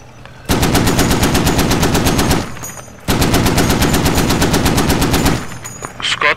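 Heavy .50 caliber machine gun fire in the military shooter game Squad, two long sustained bursts of rapid, loud, evenly spaced shots with a short pause between them.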